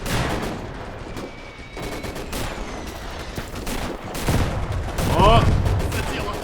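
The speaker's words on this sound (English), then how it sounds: "Let's try and use this anti-tank rifle here." Anti-tank rifle fire in the WW2 Eastern Front game Gates of Hell: several sharp, heavy shots ring out amid ongoing distant battlefield gunfire, with a brief voice over the top near the end.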